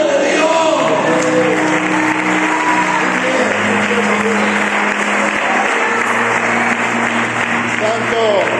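Church congregation in Alcázar de San Juan clapping together during a sermon, a loud sustained wash of applause from a large crowd, with voices and a low hum underneath.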